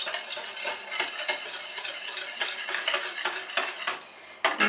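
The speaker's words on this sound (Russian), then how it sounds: "Перемешиваем" A utensil stirs a sugar mixture in a bowl for a quick meat-filled dough recipe, a close series of scraping, clinking strokes against the bowl in an uneven rhythm, briefly pausing before the last strokes.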